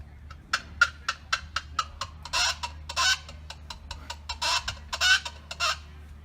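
Rapid, evenly spaced chicken-like clucks and squawks blown on a handheld predator call, imitating a chicken's distress cries, loud and close in a quiet setting, speeding up into longer raspy squawks.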